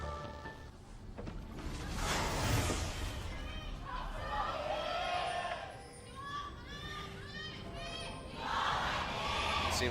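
A live esports crowd at a League of Legends LCK match between SKT and the ROX Tigers cheers and shouts steadily, with chants and excited calls swelling and dipping; it sounds loud and full, with voices throughout.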